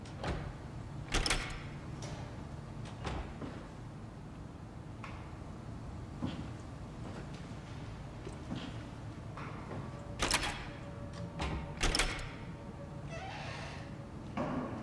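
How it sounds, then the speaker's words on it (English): A door opens in the horror video game SOMA, with scattered clanks and mechanical thuds, and louder metallic bursts near the middle and again near the end, set over a steady low ambient hum. "let's open the door"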